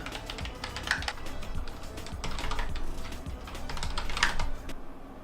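Rapid continuous typing on a Cooler Master MasterKeys Lite L keyboard, dense clattering keystrokes heard close up, with no talking.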